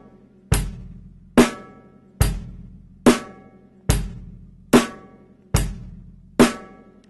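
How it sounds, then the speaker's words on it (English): A steady drum beat with sharp, evenly spaced hits, hi-hat riding each stroke with a bass drum and snare alternating, repeating at a moderate tempo. "Hi-hat and bass drum on beat 3, and hi-hat and snare drum on beat 4."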